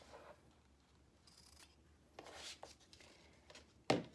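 Scissors cutting elastic for a pant waistband, a few quiet rasping snips spread over a few seconds, ending in one sharper, louder close cut.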